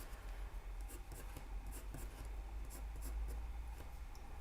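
Graphite pencil strokes scratch across paper while going over eyebrow sketch lines in an eye drawing, a steady run of soft, close scraping with light repeated strokes and no talking.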